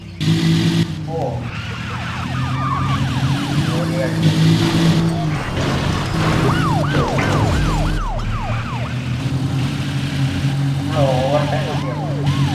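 In a city racing video game, a police siren wails in repeated rising and falling sweeps over a constant engine drone. It is loud and upfront, with a voice talking at times.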